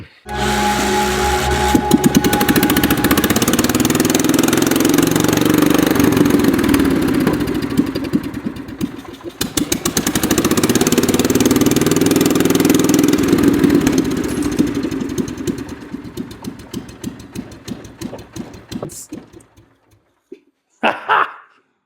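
A John Deere 140 lawn tractor engine runs loud and rough with rapid popping pulses that surge and dip, then sputters and stops near the end, with a few last clanks after it shuts off.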